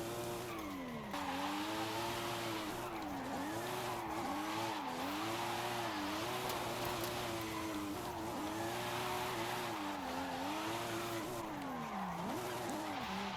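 A 900-horsepower widebody Toyota Supra drifts in Forza Horizon 5, its tires squealing in long wavering sweeps over a loud, constant engine drone, with no talking.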